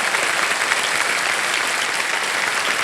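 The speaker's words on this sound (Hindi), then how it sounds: "तालियों के साथ इनका अभिनंदन।" A studio audience on a Hindi quiz show gives a dense, steady round of applause that holds at an even loudness throughout, with no voices standing out.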